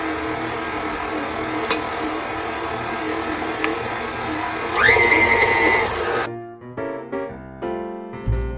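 An electric mixer whirs steadily on low speed while mixing thick butter cookie dough for holiday cookies, a loud continuous motor drone that shifts pitch briefly and then cuts out near the end.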